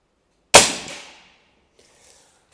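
A single sharp shot from a Black Bunker BM8 folding air rifle cracks out close and loud, then rings away over about half a second into quiet, followed by faint clicks.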